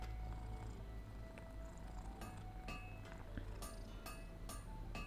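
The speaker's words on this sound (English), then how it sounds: "This cat really likes nibbling on cables." A cat purrs in a low, continuous rumble close by, under faint background game sounds with occasional clinks and chimes.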